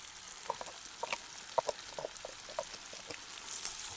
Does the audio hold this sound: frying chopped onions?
yes